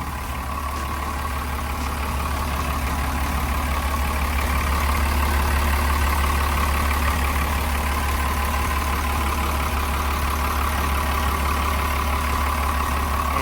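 A Komatsu WA200-3 wheel loader's diesel engine idles steadily at close range, a constant low rumble and drone that never changes pace, with no voices.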